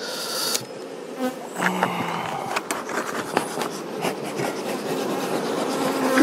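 A steady, close buzz of many bees at an opened double-queen beehive, with scraping and wooden knocks over it.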